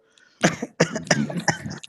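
Someone in an online voice chat coughs four times in quick succession, harsh and close to the microphone, with short gaps between bursts and no talk over them.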